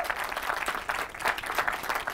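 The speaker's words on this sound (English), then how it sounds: "Warm welcome and round of applause to Josh Tumath." An audience applauds to welcome a speaker at a talk, a steady patter of many hands clapping throughout, moderately loud and dense with no pauses.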